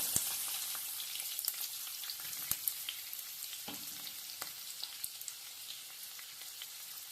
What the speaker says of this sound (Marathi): थोडासा फ्राय झाला की त्याच्यातच कांदा टाकून घ्यायचा सुरुवातीला